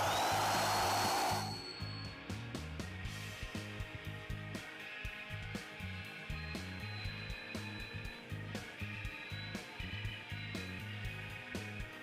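A power saw cutting metal pieces for DIY panel clamps, a loud high whine starting the run, then a sustained grinding drone with steady rhythmic pulsing and bright ringing tones, close and continuous.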